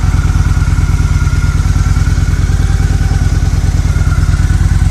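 A small engine idles steadily at a raised idle speed after its idle screw has been turned up, a close, loud, even rapid pulsing that runs throughout with no talk.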